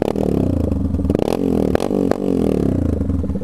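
A Yamaha Fazer 250 motorcycle with a stainless sport exhaust revs hard several times, its throaty exhaust note rising and falling with each blip of the throttle, loud and close.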